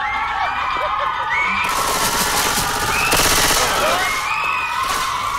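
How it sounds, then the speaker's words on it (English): Sustained automatic weapon fire in the zombie shooter Left 4 Dead 2, continuous rattling bursts layered over a dense, chaotic game soundscape with some shrill effects, loud and close. "Can we not shoot each other?"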